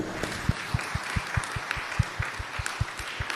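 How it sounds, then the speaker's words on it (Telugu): A church congregation claps in a steady, rhythmic beat, sharp regular claps spaced evenly and moderately loud, joined by a soft murmur of crowd applause. "అందరూ గట్టిగా చప్పట్లు కొట్టి దేవుని మహిమపరచండి."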